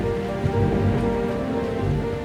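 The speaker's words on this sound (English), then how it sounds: "Lightning was striking and the sound of the thunder was echoing in the castle." Steady rain pours on a surface during a thunderstorm around a castle at night, a dense continuous hiss with a low rumble underneath and no distinct thunder crack.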